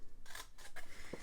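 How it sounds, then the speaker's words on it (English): Scissors snip through paper flaps on a small craft treat box, a few crisp close cuts in quick succession with short pauses between, no voices. "Now I want you to take your scissors and snip these two lines right here."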